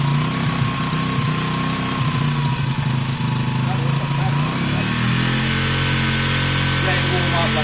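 A WK RT 125 motorcycle engine runs steadily nearby with a rough, buzzing, harmonic drone, and its pitch and tone shift partway through. Someone talks over it.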